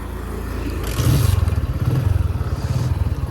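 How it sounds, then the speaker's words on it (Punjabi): A motorcycle starts up beside a canal in the evening: a brief rough cranking burst, then a steady, nearby throbbing idle with even rapid pulses. "ਮੋਟਰਸਾਈਕਲ ਹੀ ਸਟਾਰਟ ਹੋ ਰਿਹਾ"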